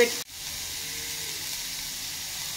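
Green chillies, capsicum and onion frying on a low flame: a steady, even hiss and sizzle, close and moderately quiet, after a brief clatter at the very start.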